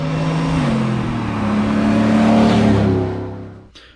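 A truck with a Chevy 5.3 V8 drives past with its exhaust routed through a MagnaFlow muffler and a DynoVox cutout. The loud, deep engine rumble swells as it approaches, peaks, then fades quickly as it passes.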